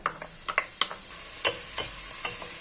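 Onion and garlic sizzle in hot olive oil in a pot while being stirred, a steady faint crackle broken by several sharp scraping clicks of the spoon, close by and with no voices.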